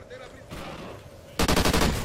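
Video game gunfire aimed at the player: after a quieter stretch, a sudden loud burst of rapid automatic shots hammers in close, with a voice speaking under the earlier part.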